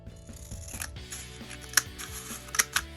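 Scissors cut through yarn on a tabletop setup for rug tufting, giving a few sharp snips late on over a soft rustle and faint background music.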